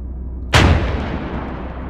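Artillery fires once in the Arma 3 video game, a sudden loud, deep boom that rolls out into a long rumbling tail, with no speech over it.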